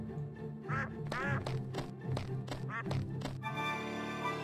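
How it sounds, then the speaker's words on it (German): Ducks quack in the video game Simon the Sorcerer 3D, several nasal calls in an irregular series, some close and loud, set over a quiet game backdrop that turns into a sustained musical tone near the end. "Da haben wir Enten."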